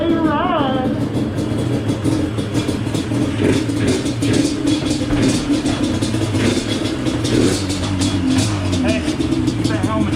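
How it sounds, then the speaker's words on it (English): A Yamaha Blaster ATV engine running just after being kick-started, idling with light revs close by while voices talk over it. "You know the blaster started first kick, boys."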